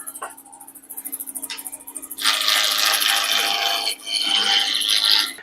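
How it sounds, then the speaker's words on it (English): Spindle roughing gouge cutting on a woodturning lathe, rounding the square corners of a wood blank: intermittent scraping at first, then a steady hissing cut, with a constant motor hum underneath. "I'm just going to start with a spindle roughing gouge, as I often would. And we're just going to work down the corners and get everything round."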